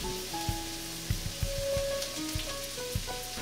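Young jackfruit cooking in a pan with chili pepper and bago leaves, a steady low sizzle running throughout, broken by several soft stirring knocks and scrapes at irregular intervals.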